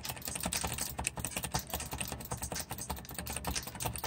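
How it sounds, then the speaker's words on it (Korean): Keyboard typing mixed with mouse clicks picked up by a Turtle Beach Recon 200 headset microphone, a dense, rapid clatter of close keystrokes running throughout, with music playing from a tablet about a metre away. "마우스와 키보드 소리를 동시에 내보도록 하겠습니다."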